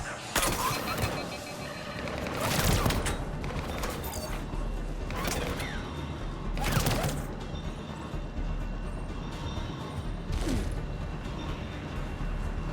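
Bursts of gunfire and sharp impacts crack out several times over a dense, noisy Mass Effect 3 game soundscape with rumbling engines and clatter.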